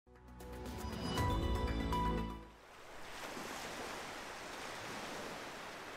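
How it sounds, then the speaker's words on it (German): Ocean waves wash in a steady soft rush, faint and distant, entering after a brief passage of tonal music at the start. "Wir hören das Rauschen der Wellen,"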